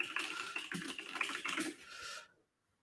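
Quick bursts of typing on a computer keyboard, close clicking keystrokes in an uneven rhythm for about two seconds before stopping abruptly into silence.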